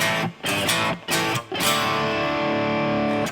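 An electric guitar played through a NUX MG-300 processor with an SM57 mic simulation gives a few distorted chords in choppy bursts, then one chord left to ring and sustain.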